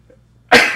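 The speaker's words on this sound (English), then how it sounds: "I'm about to sneeze." A single loud, close sneeze bursts out suddenly after a near-silent pause, a sharp explosive onset that trails off in a breathy rush.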